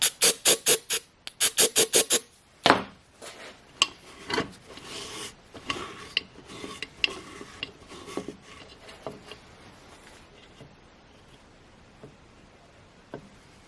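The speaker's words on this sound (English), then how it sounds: "I reamed out those holes just a little bit" Holes in a chainsaw muffler gasket are reamed out, producing scraping, rasping strokes: a quick cluster of sharp strokes at first, then sparser, fainter rubs and ticks that fade out.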